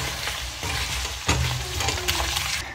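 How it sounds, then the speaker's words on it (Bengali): Chicken sizzles in a frying pan with panch phoron spices while a spoon stirs and scrapes through it, a steady close frying hiss broken by a few louder clanks and scrapes. "পাঁচফোড়ন দিয়ে এখন এটাকে কিছুক্ষণ ভালোভাবে নাড়াচাড়া করে নেব।"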